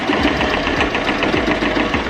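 A sewing machine runs a straight stitch across a wig weft, a steady, continuous mechanical whir with a rapid needle rhythm that stays close and loud throughout, with no voices over it.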